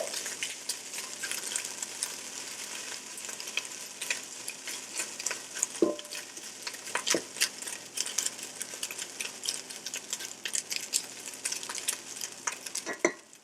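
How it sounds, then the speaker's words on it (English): Chicken fried rice stirred in a Ninja Foodi: continuous sizzling with scraping utensil strokes and occasional clinks, moderately quiet and without talk. "We're going to give it a nice stir. Break all the rice up."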